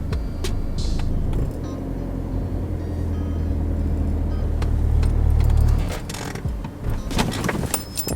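A car reverses in a straight line while accelerating, its engine a steady low drone that swells toward the end and then drops away, followed by a few mechanical clicks and knocks up close.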